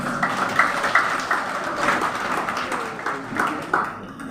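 Scattered clapping from delegates at a church synod conference hall, moderate and somewhat uneven, tapering off after a few seconds.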